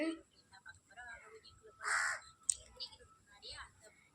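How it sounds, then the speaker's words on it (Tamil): A crow caws loudly once nearby, with a few fainter calls around it, while a person talks softly in the background. "எங்கே கிடந்து இந்த காக்கா இப்போ வந்துச்சுன்னு எனக்கு தெரியல"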